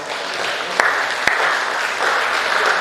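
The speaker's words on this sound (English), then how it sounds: "another round of applause" Sustained applause from a conference audience at a university life sciences research conference, steady dense clapping throughout with a couple of sharper individual claps standing out.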